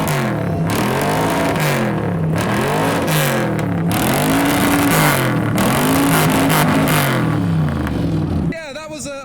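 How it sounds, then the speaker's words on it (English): A 1964 Dodge D100 pickup with a V8 and side exhaust revs repeatedly at a rev battle, its loud engine note rising and falling in rhythmic surges before cutting off near the end. "V8 noises, please."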